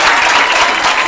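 A studio audience of students from a private high school applauds on a television show, a dense, loud, continuous wash of clapping heard alone.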